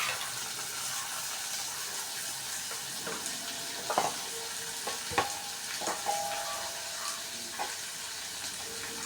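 Shallots, green chillies and tomato sizzle and fry in a pan with a soft steady crackle, punctuated by occasional louder spatters and faint utensil clinks, fairly quiet overall.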